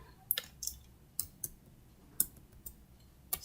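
Keys on a computer keyboard are pressed in a quiet room, making about ten sharp, separate clicks at an uneven pace. They sound close but soft, with no voice over them.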